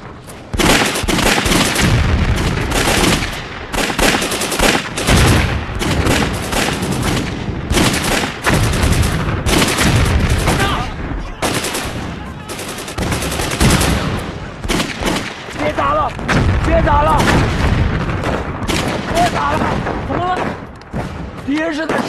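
Heavy gunfire fills a battle scene from a Chinese anti-Japanese war film: sustained loud bursts of rifle and machine-gun fire with explosions, dense and nearly continuous with brief gaps and shouting voices mixed in.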